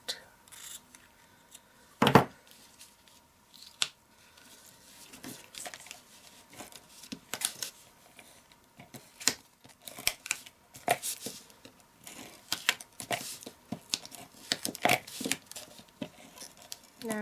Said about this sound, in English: my ribbon scissors out.